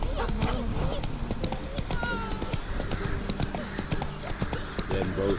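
Roach, Geralt's horse in The Witcher 3, gallops with a steady rapid clip-clop of hooves, close and continuous, under overlapping game voices and background noise.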